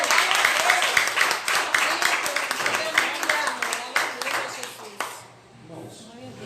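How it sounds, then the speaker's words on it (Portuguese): A church congregation applauds during a Portuguese-language sermon, with rhythmic, fairly loud group clapping for about five seconds before fading into quieter room sound with a few trailing claps. "Aplauda o Senhor Jesus"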